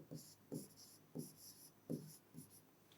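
Pen or pencil writing on paper in a classroom setting, a series of quiet scratchy strokes in bursts, close and faint, with no talking.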